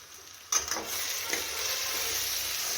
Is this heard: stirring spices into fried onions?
yes